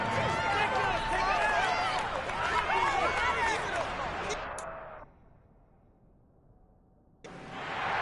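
A stadium crowd in an American football video game shouts and roars loudly and continuously, with cheering and whistles, then drops to near quiet before swelling again at the end.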